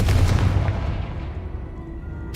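Confringo explosive spell cast in Hogwarts Legacy, a single loud booming blast that rolls off into a fading rumble, close and alone.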